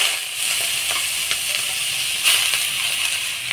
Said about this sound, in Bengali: তেল দিয়ে কচুর পাতাটা লবণ দিয়ে ভাজে নেব।